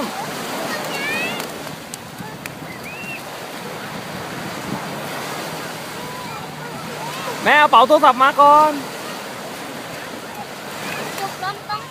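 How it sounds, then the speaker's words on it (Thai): Sea waves surge and splash at the beach at Cha-am in Thailand, a continuous wash of surf and wind noise with people talking and a burst of excited voices in the middle. "โอ้น้ำทะเลซัดใส่หน้ามีแต่น้ำเลย"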